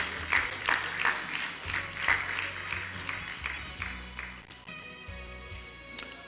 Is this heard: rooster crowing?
no